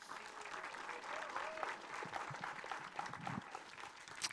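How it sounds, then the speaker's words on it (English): A tech-conference audience applauds a speaker taking the stage, producing a steady, fairly quiet patter of clapping with faint crowd murmur throughout. "a big round of applause"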